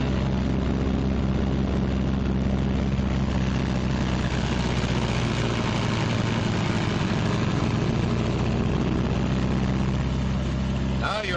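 B-26 twin-engine bomber run-up with one engine throttled back to 1,400 RPM, a loud steady low propeller and engine drone filling the whole stretch, close and continuous.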